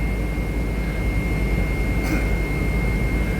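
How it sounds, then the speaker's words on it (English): Diesel train engines run at a station platform, giving a loud, continuous droning roar with a brief higher chirp partway through. "Luckily there's a train with its diesel engines on behind us."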